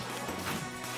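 Ghost smashing in a video game: a loud, dense burst of crash and impact effects filling the second, with game noise throughout.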